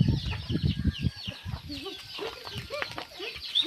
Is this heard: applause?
no